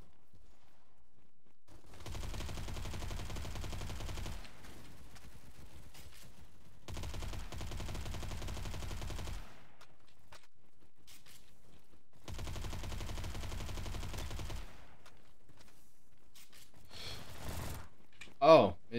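Gunfire from a bullpup rifle in the online shooter game Bad Business, heard as three sustained automatic bursts of about two to three seconds each with pauses between, fairly loud, followed by a brief sharp sound at the end.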